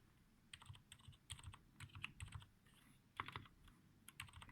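Lubed and filmed Cherry MX Silent Red switches being typed on, a steady run of soft, muted keystrokes clustered in quick bursts with brief pauses, close and fairly quiet.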